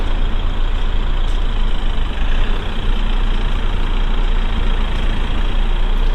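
A motorhome engine runs at low revs while the vehicle reverses slowly onto a campsite pitch, a loud, steady diesel drone with broad rumble and no talking over it.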